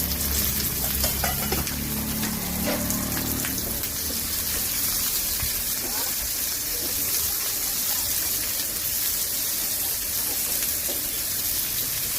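Onions roast in a pan with a steady crackling sizzle, like light rain, continuing throughout; a soft voice is briefly heard near the start.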